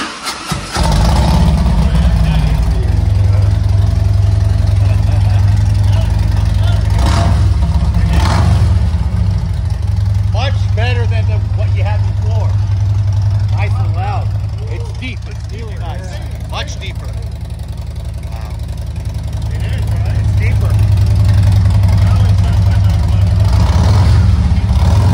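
A baffled motorbike exhaust, built for heavy back pressure, runs loud and close with a steady low drone, rising in several revving swells and then settling back. People talk over it in places.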